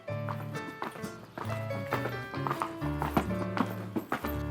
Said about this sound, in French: Le galop, qui est une allure sautée à 3 temps, 3 battus et 1 temps de suspension, produit un rythme et un son reconnaissables entre tous